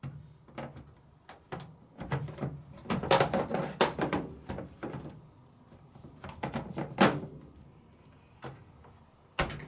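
Plastic lint filter of a Creda 37583 Energy Saver sensor tumble dryer being fitted and hooked back onto the door: a close series of sharp plastic clicks, knocks and rattles in irregular bursts, with no talking.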